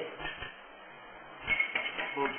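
A spoon breaking the crust of ground coffee in a cup during a coffee cupping, giving a few scraping, clinking taps against ceramic, with a soft voice briefly audible in the background.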